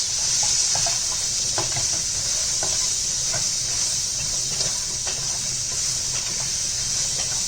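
Chilli chicken stirred in a hot pan with aromat powder, a steady loud sizzling hiss running throughout with soft scraping stir strokes scattered across it, no voices.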